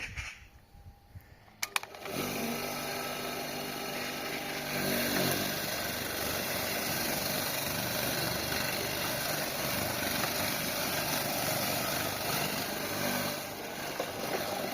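Homemade lawn mower with a roughly 40 cm cutting width starts up and runs steadily, a loud continuous engine drone with blade whir that holds level after a brief startup sputter.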